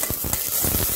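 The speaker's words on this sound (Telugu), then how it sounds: "కొద్దిగా లైట్ గా వేయించుకోవాలి వీటిని" Dry red chillies fry lightly in a pan for tomato mint chutney, giving a brief, close, steady crackling sizzle with faint stirring underneath.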